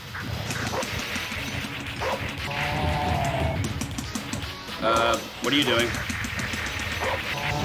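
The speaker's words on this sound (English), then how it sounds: "Okay, so I gotta fight this dog now." A dog barks and yips in the video game Mutation Nation, its calls mixed into busy game music and effects, with a voice talking over the action.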